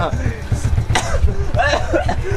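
A person coughs a couple of times in sharp bursts amid ongoing talking and background chatter.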